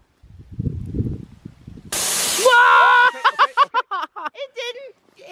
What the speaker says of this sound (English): That's a lot of spray.